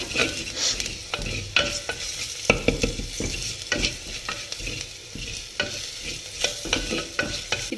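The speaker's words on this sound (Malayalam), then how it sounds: "ശകലം മഞ്ഞപ്പൊടി ഇട്ട് കൊടുക്കാം ഒരു ശകല ഉലുവാപ്പൊടി എന്നിട്ട് നല്ലപോലെ ഇളക്കാം" Potato thoran stirred in a pan with turmeric and fenugreek powder: brisk, repeated scraping and tapping strokes over a constant low sizzle, close and alone.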